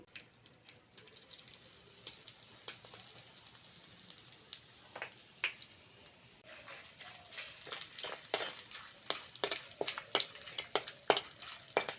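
Bay leaf, dry red chillies, whole garam masala and a pinch of hing fry in hot oil, with soft continuous sizzling broken by frequent sharp crackles and pops that grow busier toward the end.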